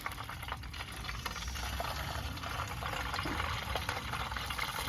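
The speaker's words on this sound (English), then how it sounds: "that's boiling away in the oil there." A hot Titanic rivet quenched in oil fizzes and bubbles in a steady, dense boiling hiss, close and moderately quiet, with no talk.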